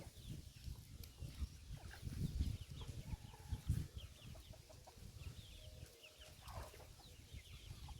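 Hens feeding on ticks cluck softly and repeatedly nearby, scattered short calls over a low rustling background, with no talking.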